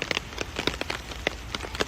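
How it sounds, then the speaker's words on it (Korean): Rain falling at a honey farm, with steady broadband patter and scattered sharper drops and splashes landing close by, fairly faint and continuous with no voices. "비가 내리는 만수무강 양봉원의 모습인데요."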